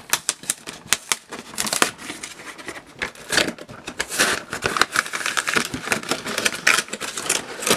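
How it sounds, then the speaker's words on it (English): Opening a Pokemon card evolution box: irregular close crinkling, tapping and rustling of cardboard and packaging, with sharp clicks and scrapes scattered throughout at moderate loudness. "So let's open the box up."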